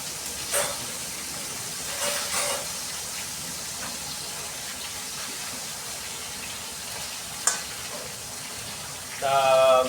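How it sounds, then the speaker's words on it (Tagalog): Tilapia frying in hot oil, a steady low sizzle and hiss with a few brief louder spits, fairly quiet throughout, ending in a short burst of clatter. "Sa mga ganito kalaki mga tilapia, ito yung masarap na luto, prito."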